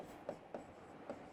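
Chalk or marker strokes on a classroom board while an example is written out, three short scratchy taps in a quick irregular rhythm, faint and close with no talk over them.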